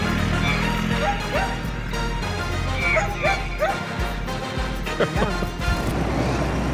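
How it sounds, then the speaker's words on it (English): Several dogs bark and yip excitedly at close range, with whimpers mixed in and some background commotion. "Hey puppy dogs, are they gonna chase me?"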